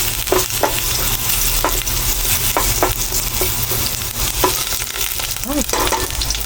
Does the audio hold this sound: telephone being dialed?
no